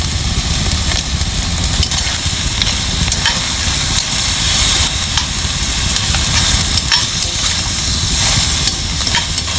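Garlic and onion sautéing in hot cooking oil for a Filipino pinakbet, a steady loud broadband sizzle and crackle running the whole time with occasional stirring scrapes and no voices.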